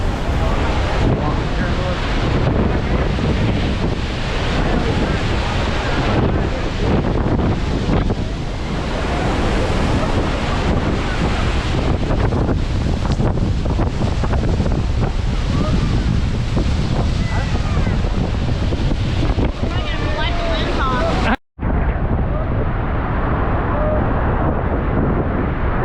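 Boat ride into Horseshoe Falls at Niagara Falls, with a constant roar of rushing water and heavy wind buffeting the microphone, loud and unbroken throughout, with a brief cut near the end.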